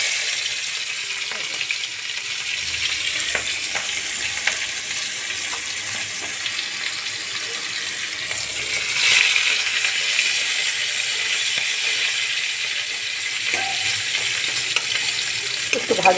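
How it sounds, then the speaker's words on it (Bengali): Onion fries in a kadai with a continuous, fairly even sizzle and hiss throughout, and a few faint clinks, with no talking. "এখন আমি কড়াইতে পেঁয়াজটা সম্বার দিয়ে দিচ্ছি"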